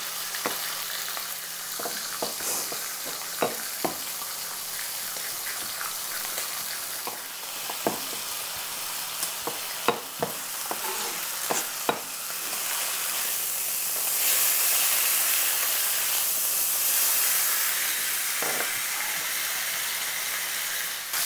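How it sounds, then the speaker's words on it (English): Beef steak for tacos de bistec sears in a hot pan, giving a continuous close sizzle and frying hiss with scattered pops and scraping stirs, and the sizzle swells louder partway through. "this is nicely seared"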